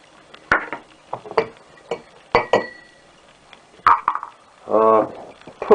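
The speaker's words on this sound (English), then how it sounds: "so I'm going to dump in the sugar." Coconut sugar dumped into a glass jar for homemade mocha liqueur, heard as scattered clinks and taps of glass, a quick rattling pour near the end, all close and fairly loud.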